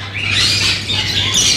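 An olive lory, a breeder-pair female offered for sale at a Sunday bird market in Bahawalpur, gives continuous harsh, shrill squawking calls, loud and close over a steady low hum, with no talking.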